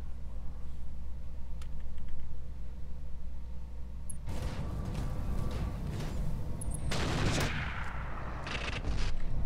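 Weapons fire from battling mechs in a video game, rapid bursts of gunfire and heavy impacts erupting after a quiet hum and building into loud overlapping volleys.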